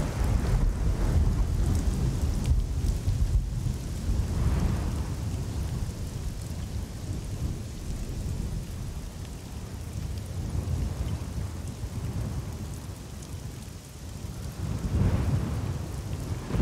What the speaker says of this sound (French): on entend carrément l'orage euh, gronder